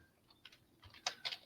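Typing on a computer keyboard: a faint, irregular run of light key clicks, quiet and close, with a few sharper taps near the end and no voices.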